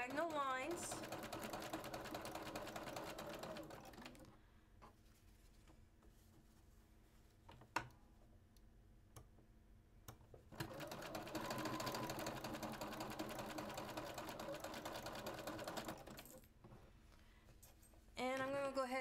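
Sewing machine stitches diagonal lines across small flying geese quilt units, with two long steady whirring runs separated by a quiet pause with light clicks and thread handling; a voice talks at times in the background.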